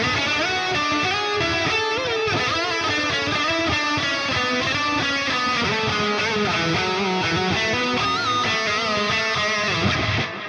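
Sterling Majesty electric guitar playing a lead line with a 12 dB volume boost engaged, a dense, sustained and distorted tone with bright harmonics that stays loud and steady throughout.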